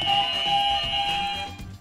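A quiz show buzzer gives a steady electronic tone that holds for nearly two seconds, loud and unbroken, then fades slightly at the end, with no talking over it.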